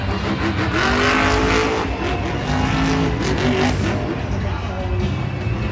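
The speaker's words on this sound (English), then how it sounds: "Now making his way onto the track, it is the most memorable Monster Jam truck in history" A Monster Jam truck, Grave Digger, rolls onto an arena track in Anaheim, its engine roaring steadily and loudly with rising revs over a constant crowd-and-arena wash, without pauses.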